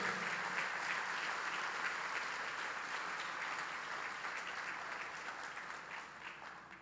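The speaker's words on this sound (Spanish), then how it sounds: "Dale ese aplauso al Señor." A church congregation applauds at a worship conference service, steady dense clapping that fills the space and fades slightly toward the end, with no speech over it.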